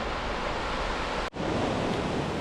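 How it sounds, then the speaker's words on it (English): An Oregon waterfall roars steadily, a dense, close rush of falling water that fills the whole stretch with one brief dip. "Alright, third waterfall here."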